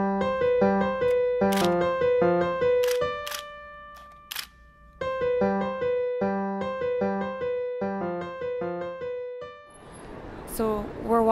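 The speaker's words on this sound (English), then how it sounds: "you may hear my shutter go off" A camera shutter fires during street photography on a city street, giving a few brief, sharp clicks that sit under louder ongoing music.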